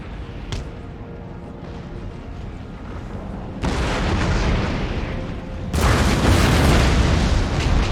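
Artillery cannons fire in the Empire: Total War game, a low rumbling battle din that jumps twice to louder, denser booming barrages, with no clear talking.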